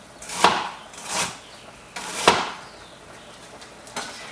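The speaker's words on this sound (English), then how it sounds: "I cut a few pieces of ginger in it" A knife chops fresh ginger into big pieces on a cutting board for soup, four or five sharp, separate woody chops spaced about a second apart, close and fairly crisp with no talking.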